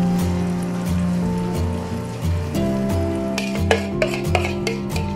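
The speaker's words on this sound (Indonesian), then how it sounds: "indomie sama telur yang tadi kita kocok, kita campur" Indomie instant noodles being stirred together with beaten egg in a pan, soft scraping and faint sizzling over steady background music, ending with a few sharper spatula taps.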